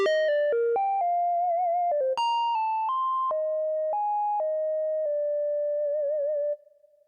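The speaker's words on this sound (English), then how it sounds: "It's a solo synth." A Yamaha DX9 FM synth plays a solo lead patch, a clean pure-toned melodic line of held notes with occasional vibrato, bright and close, ending abruptly on a sustained note with no speech.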